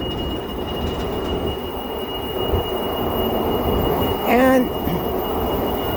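A train rumbles through a lower sub-level of a Wiltshire station, with a bright metallic wheel squeal rising over a steady rolling roar near the end, a brief word spoken under it.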